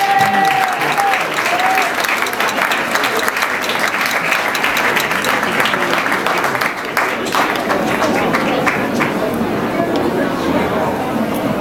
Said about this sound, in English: Let's give EDEYO a round of applause.